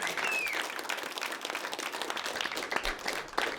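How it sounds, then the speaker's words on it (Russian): Audience applause at a fight press conference, a moderate wash of clapping that continues evenly for a few seconds with no talk over it. "Аплодисменты."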